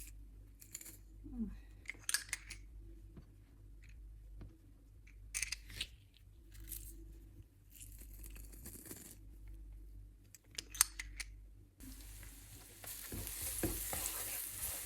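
Garlic is pressed into hot oil in a Teflon pan for a stir-fry of meat and vegetables, giving scraping, crunching handling noises in scattered bursts and then a rising sizzle of frying near the end, with no voices.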